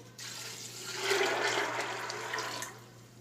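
Water pours steadily from a vessel into a pressure cooker holding black chickpeas, a broad splashing gush that swells in the middle and tapers off over about three seconds, with no voices.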